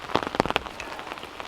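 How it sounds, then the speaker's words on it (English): Rain falls steadily outdoors at a camp build site, a soft patter of scattered drops with a few sharper, closer hits against a surface. "still raining."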